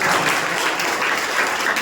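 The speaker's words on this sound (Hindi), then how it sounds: "अभी ताली बजा सकते हैं।" Audience clapping during a church sermon: dense, steady applause from a crowd, loud and continuous throughout, with no voices over it.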